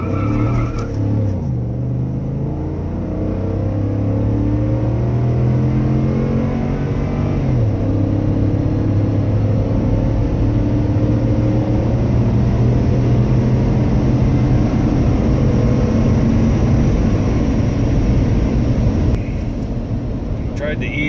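A 2011 Ford F150 with the 5.0-liter V8 launches hard in a 0 to 60 run, the engine climbing through rising revs, shifting with a drop in pitch, then pulling again loudly from inside the cab.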